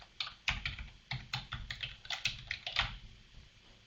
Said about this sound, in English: you can type in the address